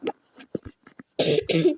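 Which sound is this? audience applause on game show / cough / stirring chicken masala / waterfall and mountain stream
cough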